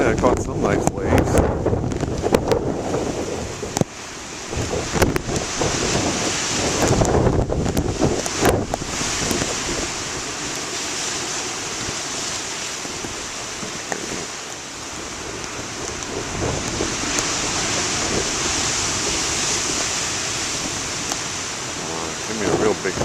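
Big ocean waves breaking as surf, with steady wind buffeting the microphone throughout and a few louder gusts and crashes in the first ten seconds.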